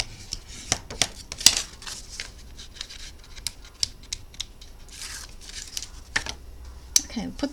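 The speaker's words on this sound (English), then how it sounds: "Now I'm going to put a piece of tape just across the bottom." Adhesive tape pulled off a roll and torn for sealing the bottom of a handmade box, heard as short crackling strips and sharp rips with small handling clicks in a quiet room.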